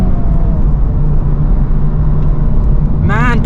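A 2024 Honda Civic Type R drives along with a steady engine drone inside the cabin, and a brief high scrabbling chirp from the tyres comes near the end.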